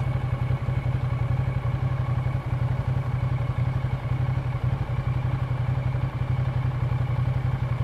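A Ducati Diavel motorcycle rumbles on an onboard ride, its engine a continuous low, pulsing throb with a faint mechanical clatter, loud and close and steady from start to finish.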